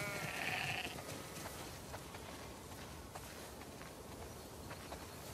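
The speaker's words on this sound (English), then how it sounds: "Wow, that's a lot of sheep." Sheep bleat in a cluster near the start in a video game, The Last of Us Part II, then a dense, steady bed of flock noise and shuffling continues with a few faint calls.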